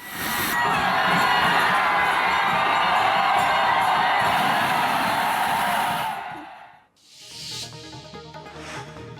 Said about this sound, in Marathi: सोहळा पाहण्यासाठी भाविकांची गर्दी.